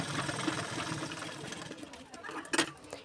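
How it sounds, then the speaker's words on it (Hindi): A sewing machine runs stitches along a strip of a katori blouse, giving a short burst of close mechanical whirring that fades out near the end and ends in a brief knock. "फिर उस पर हम एक सिलाई लगा देंगे।"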